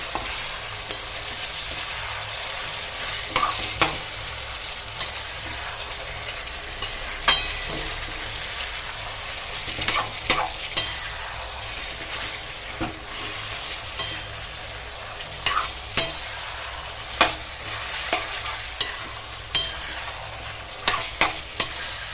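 Chicken with salt and a little sugar sautés in a pan with a constant close sizzle, broken by regular scraping and tapping strokes from stirring.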